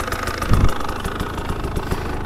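A 2025 KTM 300XCW Champion Edition two-stroke dirt bike engine runs close by with a steady, loud, raspy idle, pulsing rhythmically with a short throttle blip early on.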